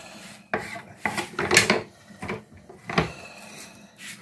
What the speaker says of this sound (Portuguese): Cortando o peixe, vai cortar os dois, né?